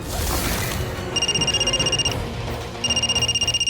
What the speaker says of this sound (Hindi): ममता का फोन है क्या?